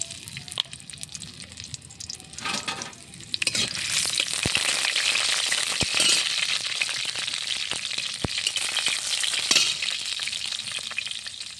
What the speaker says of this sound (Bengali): তেল দিয়ে দিলাম সরিষার। এখন আমি দিব রসুন থেতলানো আর শুকনো মরিচ।